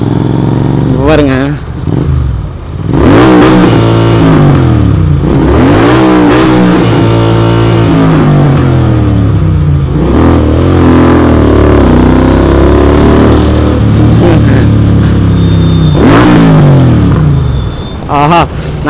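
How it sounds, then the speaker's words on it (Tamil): A Royal Enfield GT 650 motorcycle on a public road revs repeatedly, its engine note rising and falling in loud close bursts with a voice speaking over it. "இந்த ரியாக்ஷனுக்கோசரம் அப்படியே கொஞ்சம் ரேவ் பண்ணி ஓட்டுறேன்"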